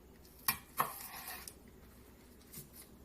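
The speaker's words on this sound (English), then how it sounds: "this is how a beginner looks chopping a celery" A beginner chops celery with a knife on a cutting board, making two sharp, quiet taps close together, followed by softer scraping and a faint later knock in an otherwise quiet room.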